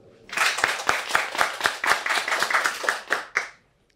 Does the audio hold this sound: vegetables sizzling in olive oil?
no